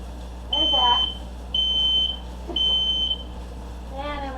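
A sensitive smoke alarm in a home kitchen, set off while making salsa verde with tomatillos, gives three loud, high, steady beeps of about half a second each, evenly spaced, with a voice briefly heard between and after them.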